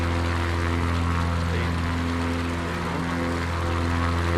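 Steady propeller engine drone of a bush plane in Microsoft Flight Simulator 2020 at near-full throttle, a continuous close hum with strong low harmonic bands throughout, no pauses.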